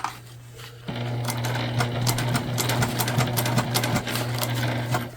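A sewing machine stitches a recycled shoulder bag, its motor whirring in a steady hum with rapid needle clatter, starting abruptly after a brief pause and running continuously up close.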